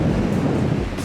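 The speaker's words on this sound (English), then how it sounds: "Wind is still windy." Strong wind at the Botanico lookout in Torres del Paine, Patagonia, Chile, buffets the microphone as a steady, low, close rumble with no voices.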